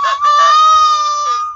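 A person whistles an imitation of a rooster crowing: a single loud, clear, sustained call with a rising start and a steady held tone.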